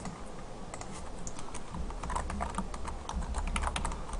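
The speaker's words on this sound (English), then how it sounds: "So let's go ahead and type that in." Steady computer keyboard typing while entering an SQL insert command in Oracle 10g XE, with rapid irregular key clicks, close and clear, and no voices.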